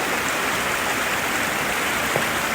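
A mountain spring near Lake Arnica, high on a mountaintop, runs in a steady, close rush of flowing water that fills the whole short stretch without pause.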